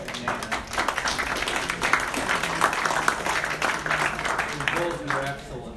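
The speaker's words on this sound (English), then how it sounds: "Let's again give a nice round of applause to Paul and Nan." Clapping from a seated audience at a history club meeting, applause for two presenters, moderately loud and steady across the stretch, with voices and talk mixed in under the clapping.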